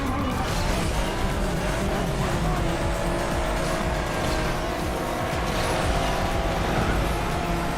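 A Ferrari LaFerrari engine roars under nitro boost in a racing video game, a loud sustained high-revving drone with tire noise that never lets up, and no voices.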